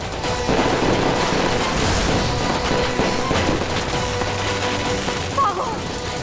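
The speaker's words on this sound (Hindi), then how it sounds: "ये आतिशबाजी हमारे ऊपर क्यों आ रही है?" Fireworks bursting overhead during a chaotic outdoor scene, a dense run of loud crackling and popping bangs filling the whole stretch with barely a pause.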